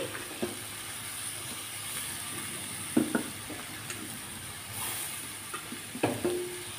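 Fried greens and eggplant tumble into a pan of hot oil and are stirred, giving a steady sizzle with a few sharp clatters of the spoon against the pan, close and moderately loud.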